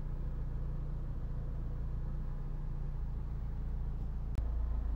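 A Honda CR-V 2.0 i-VTEC automatic 4WD idles steadily, giving a constant low rumble with no revving and no voices, apart from one brief click near the end.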